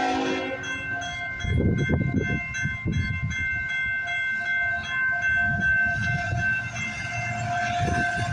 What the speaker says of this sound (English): we got a CN train coming down the line